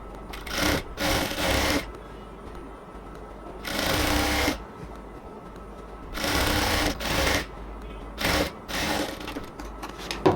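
Short repeated runs of a sewing machine stitching along a salwar fold, several bursts of a second or two separated by pauses, close and clear.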